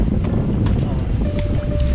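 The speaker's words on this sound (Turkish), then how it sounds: "İyi rüzgar esiyor" Wind rushes and buffets steadily against the microphone on a boat at night, with faint voices and water-like sounds mixed underneath.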